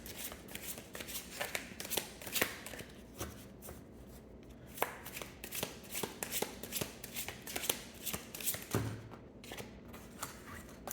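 Tarot cards being shuffled in a continuous run of crisp, rapid slaps and riffles, close and fairly quiet, with no talking.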